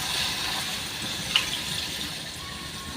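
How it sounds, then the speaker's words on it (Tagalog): Water poured into a cooking pot while making pancit miki, a soft steady splashing rush with one small clink partway through, close by and alone. "Lagyan natin ng tubig."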